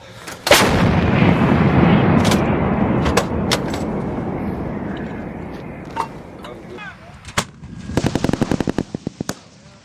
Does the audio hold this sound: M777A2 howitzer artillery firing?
yes